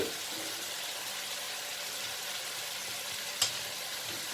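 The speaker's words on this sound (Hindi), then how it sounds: "स्पगेटी या पास्ता जो है ना ये ऐसे डालेंगे इसमें।" Spaghetti goes into a hot pan with oil, a steady sizzle running throughout and a single short clack as the pasta or pan is handled near the end, no talking.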